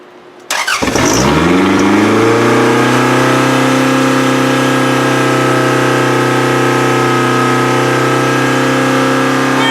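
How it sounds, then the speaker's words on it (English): A first-generation 1993–2002 Toyota Camry, set up as a demolition derby car, cranks briefly and catches, its engine surging then settling into a loud, steady high idle that drones on close by with no talking. "let's start this and I'll show you how high this one idles"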